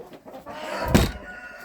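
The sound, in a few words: chickens clucking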